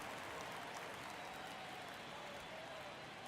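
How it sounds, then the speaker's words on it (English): Steady crowd roar from a ballpark in MLB The Show 23, a late-inning baseball game with runners in scoring position, holding a constant dense wash of cheering and murmur throughout. "Crowd locked in right now."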